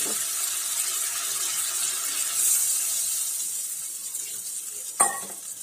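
Water poured into sizzling fried spices for a rohu fish curry with brinjal, a continuous hiss and bubbling sizzle close by that swells and then eases, with a sharp clank of a pan near the end.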